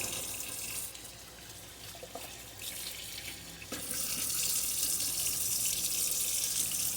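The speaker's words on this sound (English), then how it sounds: "Now I'm going to take a little bit of vinegar and I'm going to rinse my hands with the vinegar." Tap water runs steadily into a sink while hands are rinsed with vinegar, a close hiss that dips briefly in the middle and then grows fuller and louder.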